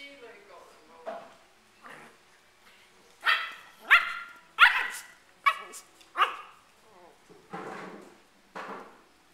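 Several puppies yip and bark in a rapid, uneven burst of sharp, high calls at close range, starting with softer whines and building to loud overlapping barks.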